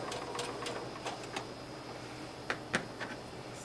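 A sewing machine stitching forward, pausing, running in reverse and then forward again while sewing fabric for a colonial costume dress, a steady close mechanical whir with small ticks and clicks.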